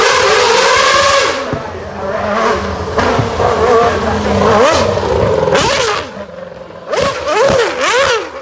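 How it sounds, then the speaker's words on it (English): A 1997 Ferrari Formula 1 car makes a demonstration run in the Goodwood Festival of Speed paddock, its engine screaming loudly through repeated high revs, throttle blips and sharp downshifts, with a commentator's voice over the top. "These are all demonstration runs from the modern Formula 1 cars."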